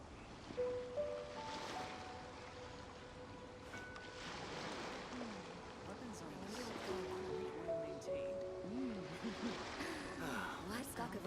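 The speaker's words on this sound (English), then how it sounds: "Waves are as calm as always." Calm ocean waves wash steadily in Genshin Impact, a soft continuous surf bed running under a character's speech and light background music throughout.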